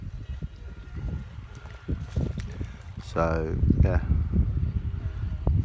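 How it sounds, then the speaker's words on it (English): Gusty wind buffets the microphone in a low, continuous rumble at Upper Tamar while carp fishing, as a person speaks briefly over it. "There's a lot of wind, as you can probably tell."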